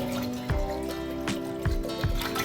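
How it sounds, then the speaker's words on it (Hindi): Water poured from a vessel into a cooking pot on a lit stove while turnips are prepared, with intermittent splashing pours over steady background hum. "एक बर्तन ले लेंगे और बर्तन में हम पानी डालेंगे"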